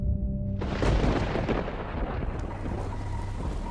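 A deep thunderclap rolls in suddenly and rumbles on over steady heavy rain, loud and close, with no voices.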